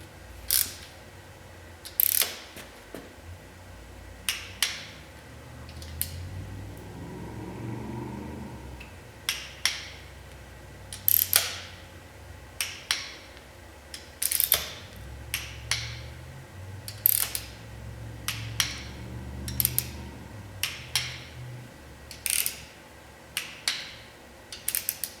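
An inch-pound torque wrench ratchets close by as bolts are tightened on a Blueprint 396 crate engine, in repeated short bursts of sharp clicks with brief pauses and some low handling rumble between them.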